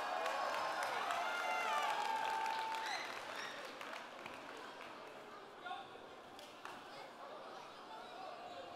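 Applause and cheering from a crowd at a sumo wrestling exhibition at a Japanese festival, loud at first then easing to a steady clapping bed with scattered shouts.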